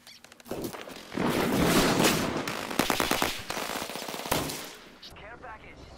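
Rapid automatic gunfire from a first-person shooter video game, long sustained bursts of rattling shots with brief gaps, loud and dense, ending abruptly.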